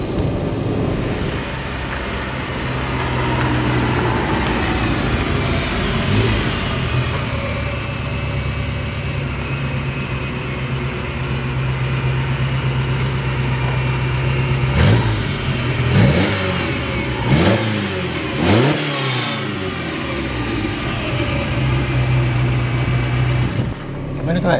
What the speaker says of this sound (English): Look at that, it's idling beautifully.